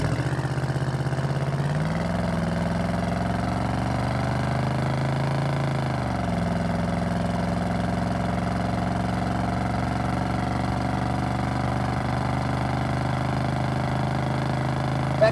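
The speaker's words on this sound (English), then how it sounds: "That exhaust sounds good," A 1976 Chevrolet C10 pickup's original 454 big-block engine idles steadily with a deep, throaty rumble through a stock-style exhaust, its pitch rising briefly then settling back to a low, even idle.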